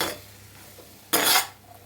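A utensil stirs cluster beans in a pan with one short, bright scraping clatter, preceded by a faint metallic touch.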